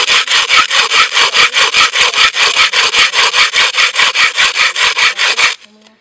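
A hand drill bores into stone with a steady back-and-forth rasping, about thirty evenly spaced gritty strokes, close and loud, before stopping abruptly near the end.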